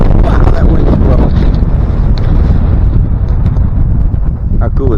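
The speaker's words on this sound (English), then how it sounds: "Wow, that wind is blowing." Strong wind buffeting the microphone outdoors near a fish hatchery, a loud continuous rumbling roar that swamps everything, with a voice faintly audible beneath it.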